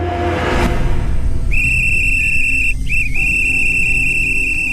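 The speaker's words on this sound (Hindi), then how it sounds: "लेकिन वो अपने टाइम पे आया और सीटी बजाया।" A sharp, high whistle is blown at an early-morning running meeting point. It holds for a few seconds with a brief dip in the middle, clear and loud, and follows a rushing noise.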